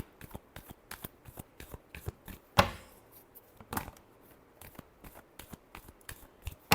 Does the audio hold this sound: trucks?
no